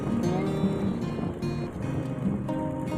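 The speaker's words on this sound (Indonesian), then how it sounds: "Motornya sampai suaranya gereng-gereng, mohon maaf karena ini kategori motor butut begitu." An old, worn-out motorbike engine strains uphill toward the summit of Mount Telomoyo, a steady loud growling drone with wind rushing over the microphone throughout.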